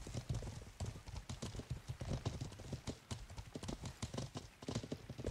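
Horse hooves clip-clopping steadily in the medieval game Life is Feudal, a busy continuous run of close hoof strikes with an occasional faint whinny.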